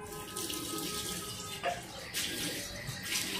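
Tap water running into a sink as someone washes their mouth after eating, a steady close stream with a few splashes and louder gushes near the end.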